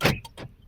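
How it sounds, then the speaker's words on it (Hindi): A remote-triggered central locking alarm siren on a Hyundai Santro gives a loud opening burst, then two short, sharp chirps in quick succession, heard close up. "है ना, सायरन सुनाई दिया ना।"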